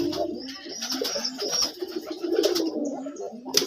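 Several pigeons at a pigeon farm coo softly and continuously close by, their low throaty calls overlapping, with a few faint chirps and rustles mixed in.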